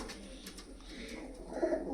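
Prize-winning racing pigeons perched at a home loft let out a soft, low cooing, brief and near, with no voices.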